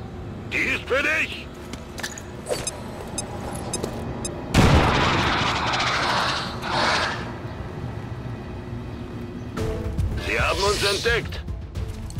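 A frag grenade blows up in the XCOM 2 video game as one loud, sudden blast that rumbles and slowly fades, with someone talking before and after it.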